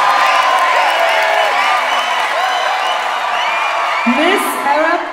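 Pageant audience at the 2024 Miss Arab USA final results making noise: a loud, continuous crowd roar of cheering, whoops and shouting voices that holds steady throughout, with scattered clapping and excited calls.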